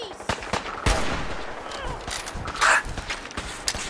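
Energy weapon fire in Fallout 4, heard as a few sharp, scattered zapping bursts over a busy combat background, with one louder blast about two-thirds through.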